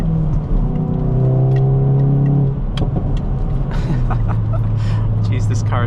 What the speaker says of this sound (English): you can see it's popping, banging a lot going down the gears